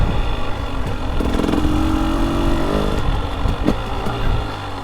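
A 2017 KTM 300XC carbureted two-stroke dirt bike idles steadily at a very low idle, a continuous mid-level burble with a brief rise in tone partway through, heard up close and alone.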